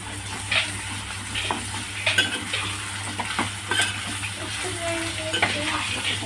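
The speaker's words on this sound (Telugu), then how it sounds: "దీన్ని కూడా కలుపుకొని బాగా ఫ్రై చేసుకుందాం." Onion, green chili and ginger paste sizzle in a pan under repeated stirring, with soft spoon scrapes and clinks against the cookware; steady, close and moderately quiet, with no talking.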